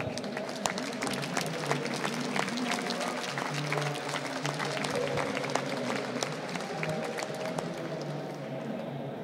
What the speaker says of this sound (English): we just can give like a warm welcome, warm applause to them again